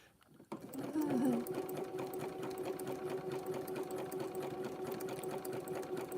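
A home sewing machine runs steadily at close range, a continuous motorized whir with a rapid stitching rhythm holding at an even level throughout, starting just after a brief quiet moment.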